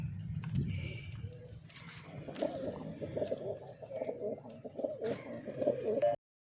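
White-eyed pigeons coo in soft, low, repeated calls close by. Faint higher chirps and light background clatter sit beneath them.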